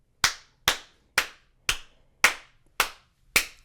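Seven single hand claps ring out alone, close and crisp, evenly spaced about half a second apart in a slow, deliberate rhythm with silence between each.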